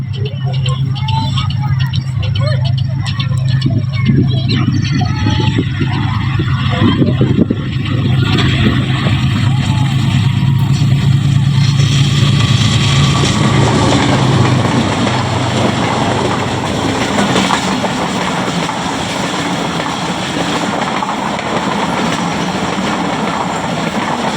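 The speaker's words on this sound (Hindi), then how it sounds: "102 की स्पीड से GU20 लीड करते हुए ले गया 14 डाउन अवाम एक्सप्रेस को।" Awam Express passenger train led by locomotive GU20 rushing through Gujranwala Cantt railway station at about 102 km/h, a loud sustained roar of engine and wheels throughout, with people talking over it.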